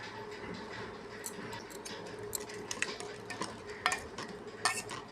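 Yogurt being stirred into a chicken biryani mixture with a utensil, soft scraping and clinking against the pot in irregular strokes, fairly quiet and close, with no talking.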